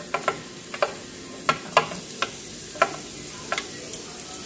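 Garlic frying in hot cooking oil in a pan, with a faint sizzle beneath a series of sharp stirring clinks and scrapes spaced irregularly throughout.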